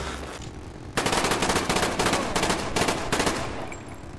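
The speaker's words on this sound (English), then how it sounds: "I finish off with a headshot AK-74U rapid fire that I picked up off of one of their corpses" Rapid automatic fire from an AK-74U in Call of Duty, a loud, close burst of shots in quick succession lasting about three seconds after a brief quiet lead-in, then fading.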